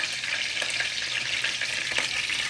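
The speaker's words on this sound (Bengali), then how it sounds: "তেলের ছিটা" Oil spatters as vegetables fry for noodles: a constant, close sizzle broken by sharp little pops and crackles scattered through it, with no speech.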